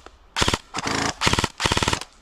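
Airsoft gun firing outdoors in quick bursts, four sharp rattling volleys of rapid clicking shots close by, separated by brief pauses.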